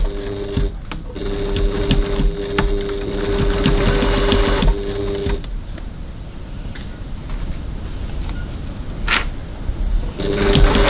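Sewing machine stitching a seam with a 1 cm (3/8 inch) seam allowance: a loud, steady, rapid mechanical whirring and clatter that runs continuously, with a brief pause and restart.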